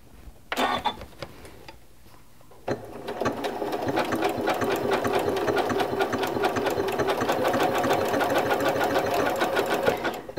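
A Janome MC9450 sewing machine running with a circular sewing attachment, a short burst of stitching, a pause, then steady continuous close-up stitching for the rest of the time.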